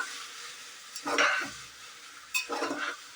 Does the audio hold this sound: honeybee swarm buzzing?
no